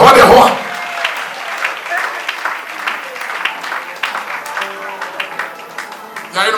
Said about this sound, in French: Est-ce qu'on peut acclamer très fort pour le roi des rois?